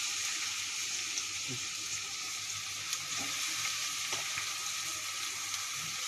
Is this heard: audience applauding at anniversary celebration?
no